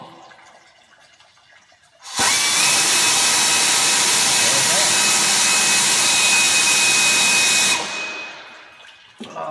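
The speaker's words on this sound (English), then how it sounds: "I'm using a 13 millimeter wobble socket." A power tool whirs steadily for several seconds, loud and close, as a bolt comes off a Mercury Mountaineer with a 13 mm wobble socket, starting abruptly and then winding down.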